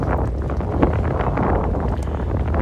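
Steady, blustery wind buffeting the microphone at a radio-controlled IOM yacht sailing race, a continuous loud rumble with gusty swells and no voices.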